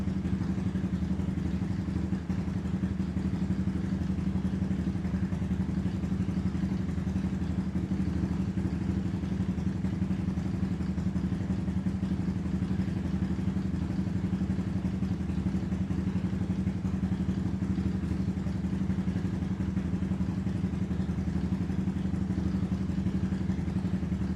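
A Suzuki LTZ 250 quad engine running steadily after a rebuild, a throaty even idle hum with fine rapid clatter, constant and close for the whole stretch, no voices.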